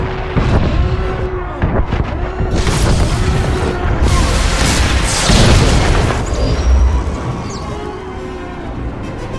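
Heavy booming impacts of incoming fire strike a starship in Star Wars: The Old Republic, several loud blasts and rumbling hits layered over alarms and a shouted warning, close and intense throughout.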